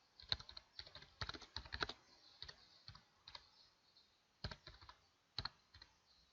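Keystrokes on a computer keyboard as a label is typed into an AutoCAD 2016 drawing, quiet irregular bursts of clicks with short pauses, no talking.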